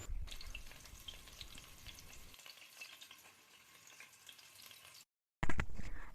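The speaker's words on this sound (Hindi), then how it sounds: "2 मीडियम साइज़ की प्याज ली है, इसको फ्राई करेंगे" Two medium onions frying in cooking oil in a pan, giving a dense, steady hiss with light stirring; the sizzle drops briefly and returns loud near the end.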